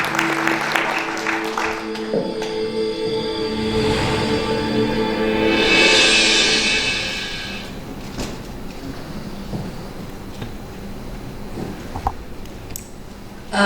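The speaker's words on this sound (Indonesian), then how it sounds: "Berikan tepukan yang paling meriah" Audience applause at a business presentation for a product manager, a sustained wash of clapping that swells and then fades, with some background noise and murmuring.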